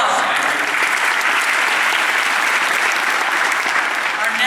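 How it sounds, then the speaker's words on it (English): An audience at a business pitch event applauds a finalist, loud dense sustained clapping filling the room steadily throughout. "so give him a round of applause."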